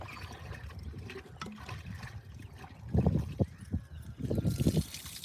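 Women pour water together during a Vastu puja ritual. Faint trickling comes first, then two louder splashing bursts of poured water, with soft background murmuring.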